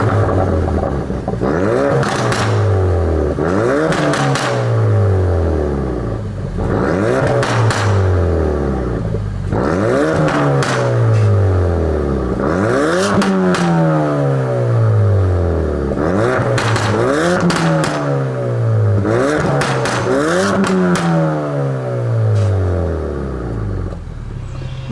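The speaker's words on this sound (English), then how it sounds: "it's time to put this into sport mode, the full mode of the new exhaust system" Ford Focus RS fitted with a Mountune axle-back exhaust in sport mode, revved repeatedly up and down in about seven rising-and-falling sweeps, loud and close with crackling on the overrun.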